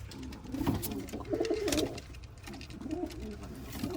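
Soft, low pigeon cooing repeats several times in a gentle rhythm, close by, over faint background noise.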